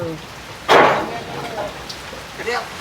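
Steady rain patters throughout, with a short burst of louder splashing near the start and faint voices in the background.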